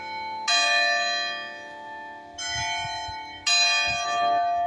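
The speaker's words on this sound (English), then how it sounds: "For whom the bell tolls." Church bell tolling with three strong, ringing strikes, each followed by a long, humming decay. The strikes are close and loud, and one note overlaps the next.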